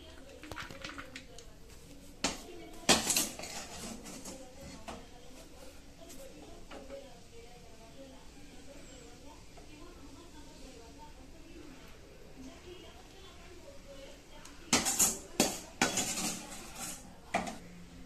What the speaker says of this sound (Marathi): आता ही मी राहिलेली बुंदी सुद्धा मी या ताटामध्ये काढून घेते